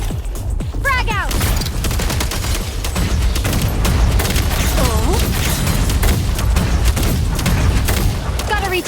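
Video game combat with a grenade blast and gunfire: dense, continuous rattling shots and heavy booms fill the whole stretch at high volume, with voices mixed into the din.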